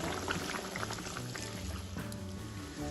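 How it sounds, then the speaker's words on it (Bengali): Orange juice pours into a simmering rohu fish curry in a pan, a continuous close bubbling and sizzling wash with a brief splashier moment partway through. "এখন আমি এর মধ্যে দিয়ে দেবো কমলা লেবুর রসটা"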